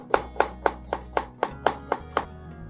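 A knife chops onions on a board for a chicken korma, with about nine evenly spaced, crisp cuts at a brisk, regular rhythm, close and clear with no talk.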